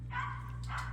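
A 10-week-old Bullmastiff puppy lets out a single soft, short bark that is faint and close against a steady low background hum.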